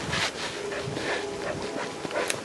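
A dog pulling on its leash outdoors on a wet path gives faint, intermittent whimpers and panting over steady background noise.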